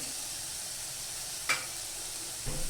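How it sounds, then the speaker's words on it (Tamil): Chopped carrots and beans sautéing in a pan while making paneer-stuffed chapati filling, a steady close sizzle with one sharp clink and a brief stirring scrape near the end. "கேரட்டு பீன்ஸு முதல்ல போட்டு கொஞ்சம் நேரம் வதக்கணும்"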